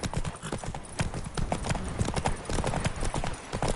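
Roach the horse trotting in The Witcher 3, hooves clip-clopping in a quick, steady rhythm, close and prominent against a busy game soundscape, with a faint voice nearby.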